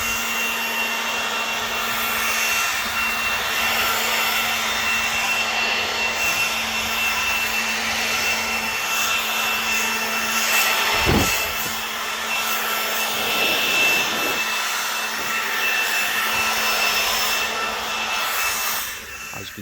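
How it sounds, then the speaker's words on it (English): A blower sends dust and debris off OSB roof boards on a summerhouse roof, a steady loud rushing airflow that holds throughout with a faint tonal hum and a few brief scuffs. "just blow the dust and debris off the roof"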